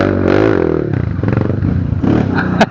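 A motorcycle engine revs loudly and close by, its steady drone rising and falling, with a brief rattling clatter near the end.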